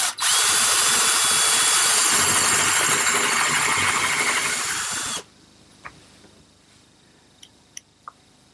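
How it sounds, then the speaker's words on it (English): A power drill bores angled screw pilot holes into wood for a coffee table, whining loudly and steadily for about five seconds before stopping, followed by faint clicks and taps. "then I'm going to pre-drill for some screws, about a 45-degree angle"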